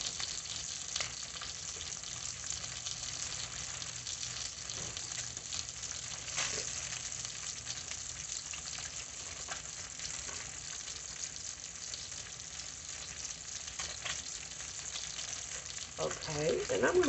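Tilapia fillets fry in butter in a pan, giving a continuous dense sizzle and crackle that holds steady throughout with occasional brief pops and stirring noises.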